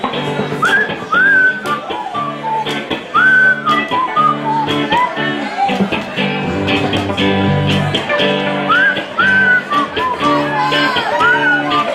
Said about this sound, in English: This is a whistling song, and I'm not very good at whistling,